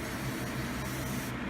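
Spray bottle misting hair while a lace wig is styled: a continuous soft hiss of fine spray runs steadily throughout at low volume, with no speech.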